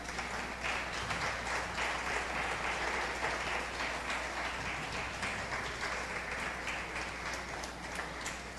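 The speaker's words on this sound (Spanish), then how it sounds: "Denle un aplauso al Señor." A church congregation applauding during a sermon service, a broad, sustained roar of clapping from a large crowd that holds steady and loud throughout, with no speech over it.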